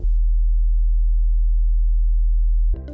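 Deep 40 Hz sine test tone: a loud, even sub-bass rumble sustained for almost three seconds, ending abruptly as a brief bit of other sound begins.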